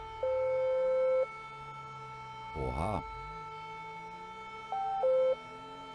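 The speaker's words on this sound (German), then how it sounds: "Ihr seht die Sirenen." Police car sirens in a Berlin police patrol roleplay video game, two short wailing siren bursts near the start and end with a brief louder burst between, steady tones over a constant engine hum while someone speaks.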